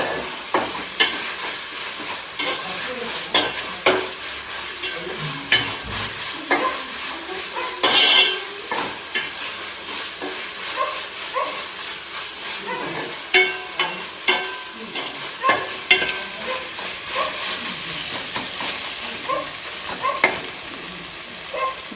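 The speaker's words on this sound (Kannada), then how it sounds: "ಇದು ಎಣ್ಣೆಯಲ್ಲಿ ಸ್ವಲ್ಪ ಹಸಿ ವಾಸನೆ ಹೋಗಬೇಕು. ಇದು ಸ್ವಲ್ಪ ನೀಟಾಗಿ ಫ್ರೈ ಮಾಡಬೇಕು." Masala frying in hot oil for a chicken curry, a steady close sizzle with frequent scraping stirs and occasional clinks of a spoon against the pot, no voices.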